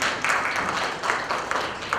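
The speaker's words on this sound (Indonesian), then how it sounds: "Ladies and gentlemen, mari kita beri tepuk tangannya untuk Mbak Balkis Manisa" An audience applauds at a World Press Freedom Day 2017 forum, a steady close wash of many hands clapping at even loudness, with no talking.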